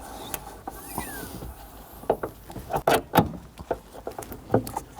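Metal gas strut on a 2012-2022 Volkswagen Passat trunk lid snapping onto its ball mounts, a handful of sharp close clicks and knocks amid lighter handling rattles, no voices.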